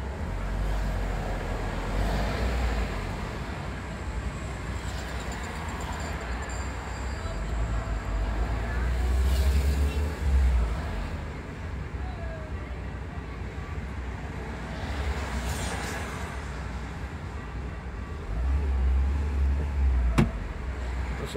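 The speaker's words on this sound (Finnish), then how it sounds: "Liikenne on tosiaan lisääntynyt." Steady road traffic rolls along a beachfront street on the coast between Benalmádena and Torremolinos, a continuous wash of passing cars with occasional louder swells, heard under someone speaking.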